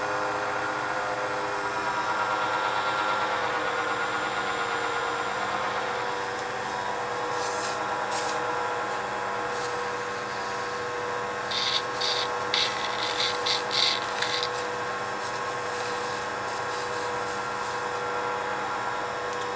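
A wood lathe spinning a pen blank at about 1300 RPM during application of a CA finish, a steady, fairly quiet motor whir and hum, with brief rubbing and scratching bursts from the applicator.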